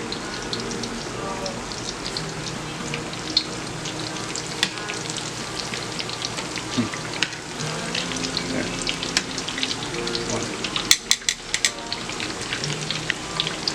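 Breaded eggplant slices frying in oil in a pan after being flipped, with a loud, dense crackle and spatter throughout, plus scattered sharp pops and faint talk in the background.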